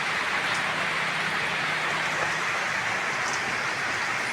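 Steady morning rain falls over a roadside in rural Thailand, a dense continuous hiss of drops close by with no voices, a faint low hum of distant traffic beneath.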